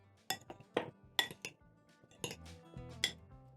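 Cucumber and tomato salad being tossed with salt in a bowl, giving a few close, light clinks and scrapes of a utensil against the dish in short irregular bursts.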